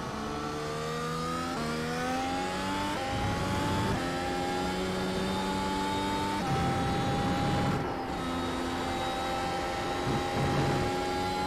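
Racing car engine in the iRacing sim at Circuit de Catalunya, revving steadily with repeated upshifts as pitch climbs and drops in stepped sweeps, loud and continuous with no talk.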